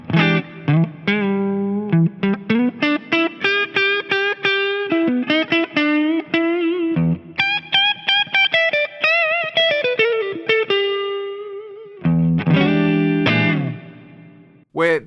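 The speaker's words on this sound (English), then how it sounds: "they'll hit the minor third of a pentatonic scale, and they'll bend it just a little bit" Electric rock guitar plays bluesy pentatonic licks with slight quarter-tone bends on the minor third, loud and close, with quick repeated picked notes, sustained bent tones and a few full chords, no talking.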